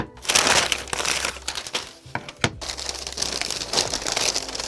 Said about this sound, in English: this paper is very loud